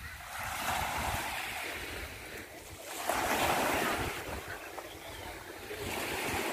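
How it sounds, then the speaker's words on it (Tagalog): Steady rush of ocean surf washing onto Gold Coast Beach in Tuen Mun, with swelling waves and some wind buffeting the microphone. "naririnig mo yung tunog ng alon"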